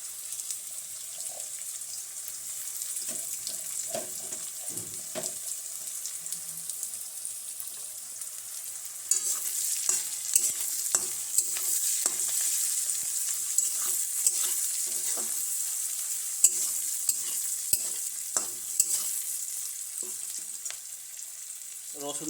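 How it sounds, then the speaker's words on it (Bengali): Browned onions fry in a pan with garlic paste added, giving a continuous bright sizzle. Frequent spoon clinks and stirring scrapes run through it, and the sizzle grows louder partway through as the paste hits the oil. "পেঁয়াজগুলো মোটামুটি লাল লাল করে ভাজা হয়ে গেছে দিচ্ছি রসুন বাটা"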